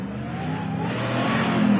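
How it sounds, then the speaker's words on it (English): A RAM TRX pickup with a Hellcat engine revs at night, a deep, steady engine roar that builds slightly, close and loud, with no talk over it. "It's a Hellcat, brother."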